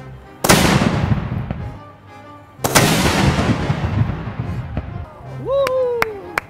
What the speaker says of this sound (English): It's the first rifled cannon used by the US Army.